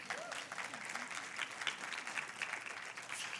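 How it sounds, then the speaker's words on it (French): Church congregation applauding during a sermon on fasting and prayer, a steady continuous patter of many hands at moderate distance, with faint voices mixed in underneath. "C'est drôle, il y a des gens qui applaudissent"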